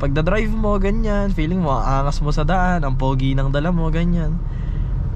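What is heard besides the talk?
No everyday noise stands out behind the speech.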